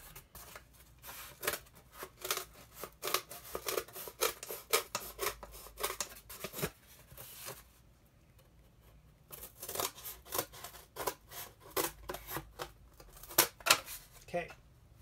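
Scissors snipping through a paper template along its center line, crisp repeated cuts up close in two quick bursts separated by a short pause, quiet and dry.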